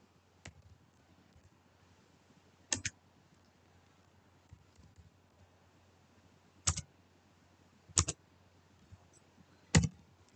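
Code being typed on a computer keyboard: sparse, isolated bursts of quick key clicks separated by long quiet gaps, close and fairly soft, no talking.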